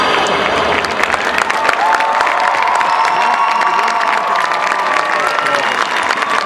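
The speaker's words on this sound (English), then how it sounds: "we now ask that you begin clapping as we pull into the station" Loud crowd clapping and cheering with shouts and whistles as a high school marching band arrives at a school stadium, sustained and dense throughout.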